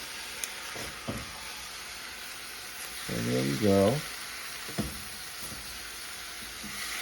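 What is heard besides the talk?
wine sizzling in hot pan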